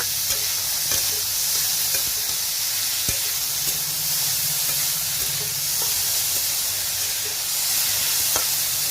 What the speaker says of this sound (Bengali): ভালো করে নেড়ে চেড়ে একটু ভেজে নিব